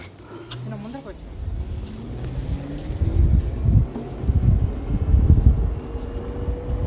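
Wind rushing past while riding a scooter through the hilly grounds of a zoo in Tirupati, a steady low roar with gusting buffets alongside a faint engine hum, no talk.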